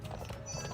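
Horses in The Ranch of Rivershine game clip-clop in a quick steady rhythm of hoofbeats, moderately close, over a dense wash of background music and ambience.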